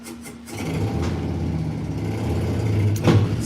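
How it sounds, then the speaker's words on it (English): A neighbor's motorcycle rumbles in the background in a steady, low engine drone that swells slightly toward the end, with no talk over it. "Sorry about the motorcycle in the background."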